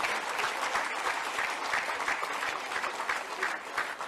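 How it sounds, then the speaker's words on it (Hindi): Steady, full applause from an audience welcoming a doctor receiving an achievement award at an event with Chief Minister Yogi Adityanath, dense overlapping claps held at an even level throughout, fairly distant. "जोरदार तालियों से डॉक्टर साहब का स्वागत कीजिए।"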